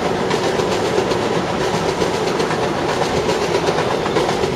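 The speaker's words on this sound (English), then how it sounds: "Long Island Railroad." A Long Island Rail Road train rolls past close by, its steady, loud roar and rhythmic clickety-clack of wheels on rail joints filling the whole stretch without pause.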